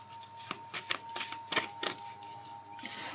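A deck of Lenormand cards is shuffled and drawn, with a series of soft, quick riffling and flicking bursts at an uneven rhythm, close and fairly quiet, with no talking.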